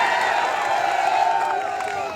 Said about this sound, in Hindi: सलमान रागिब जी, जोरदार ताली से इनका स्वागत करें